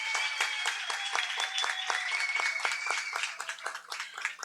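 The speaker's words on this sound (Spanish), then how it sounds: "Un aplauso por favor para Nayet Solórzano." Scattered hand claps ring out in a quick irregular patter, a small audience applauding steadily before it tapers off.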